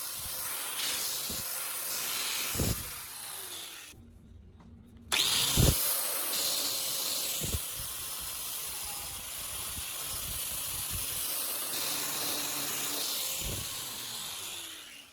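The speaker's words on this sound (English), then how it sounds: "My next step is to use an angle grinder to remove all the rust and reshape the blades." An angle grinder removing rust from bolt cutter blades, a steady loud hissing grind close up that drops away briefly and then resumes, with scattered sharp knocks against the metal and no talk.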